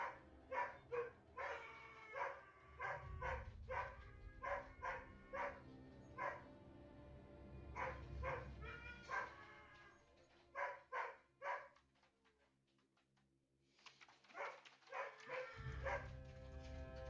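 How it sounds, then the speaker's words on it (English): Several dogs barking in repeated rhythmic volleys indoors, somewhat distant and muffled, with pauses between bursts and a low rumbling hum underneath; no speech. "dogs won't stop barking"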